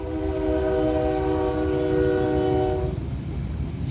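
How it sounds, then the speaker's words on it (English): Passing train with its horn sounding: a loud, sustained multi-tone horn blast over a heavy rumbling roar, the horn cutting off near the end while the rumble continues. "And the train coming by as I'm saying that."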